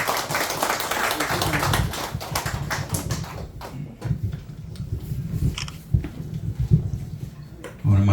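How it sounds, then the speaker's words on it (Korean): An audience applauds a commander at a commander inauguration ceremony for a constitution-defense group in a hall; dense, steady clapping fills the first few seconds, then thins as voices and scattered claps continue. "여러분, 자, 그동안 수고하신 우리 박상구 총단장님께 다시 한번 뜨거운 박수"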